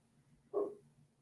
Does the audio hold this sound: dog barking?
yes